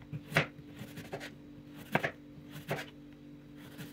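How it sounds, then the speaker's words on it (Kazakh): A knife cuts store-bought radish into round slices on a board, four crisp chopping knocks at an uneven pace, close and clear with no talk. "Сосын бұны дөңгелетіп, домалақ кесіп аласыздар."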